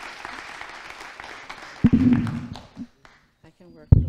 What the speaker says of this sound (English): Ms. Simpson, round of applause, please.